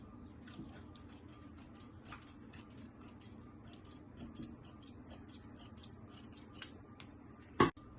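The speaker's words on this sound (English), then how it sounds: "Cut the back bodice into 2." Scissors snip through dress fabric to split the back bodice, a steady run of quiet, crisp close-up cuts followed by one louder clack at the end.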